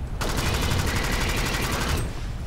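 A pump shotgun in the Alien Swarm game fires as part of a dense, loud run of rapid, evenly pulsing blasts lasting about two seconds over continuous game noise.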